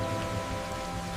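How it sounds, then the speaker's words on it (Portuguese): Rain falls softly on a large panoramic office window, a steady faint patter with a low constant hum underneath and no voices. "O som da chuva caía suave sobre o vidro panorâmico do escritório"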